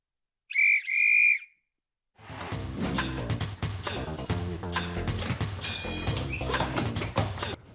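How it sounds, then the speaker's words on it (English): Two quick shrill blasts of a whistle during a halftime break on a talk show, heard alone and close, then loud music takes over. "Fuck, I blew the whistle."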